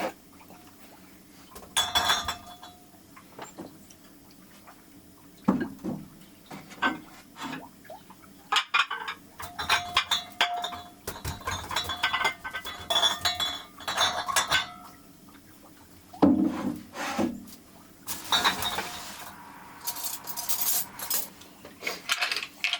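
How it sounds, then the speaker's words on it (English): Dishes and cutlery clink and clatter in scattered bursts as they are set into a basket inside a tiny cabin on wheels, close by, with quiet gaps between the handfuls. "Maybe I just put all of my dishes in this basket."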